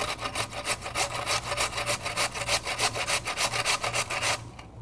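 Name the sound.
potatoes shredded on a box grater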